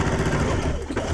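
A sewing machine stitches a short quilt seam on a bargello quilt, giving a brief, steady mechanical whirr up close, with a voice faintly underneath.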